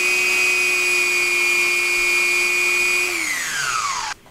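A steady, high-pitched mechanical whine from a power sander sanding an old worn brake pad runs for a few seconds, then winds down in pitch before cutting off.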